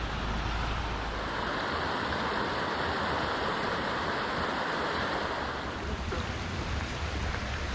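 Icy mountain stream water rushing steadily near Gores de Federa in the Dolomites, at about 1600 metres, a dense broadband wash that stays loud and close throughout with no voices.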